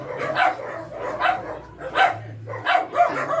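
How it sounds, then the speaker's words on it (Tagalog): A dog barking repeatedly at a steady pace, about five sharp barks, fairly close, with low background noise between them. "Ingay na aso dito."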